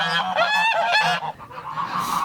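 Several geese of an old conservation breed honk loudly and close by in quick overlapping calls, a noisy chorus that briefly dips before resuming.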